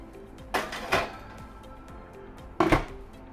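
A roast beef goes into a home oven: a couple of soft clunks and scrapes as the dish slides in, then a louder thud as the oven door shuts, with quiet room tone between.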